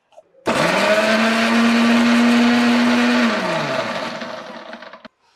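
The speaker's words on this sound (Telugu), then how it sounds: "నేను మిక్సీ చేస్తున్నాను" A mixie grinder blending aloe vera gel with other hair-remedy ingredients whirs loudly and steadily for about four seconds, its motor pitch dropping as it winds down before stopping.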